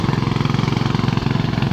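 A rice harvesting machine engine in Bohol runs with a steady rapid chugging throb, loud and close, pulsing evenly throughout without talk.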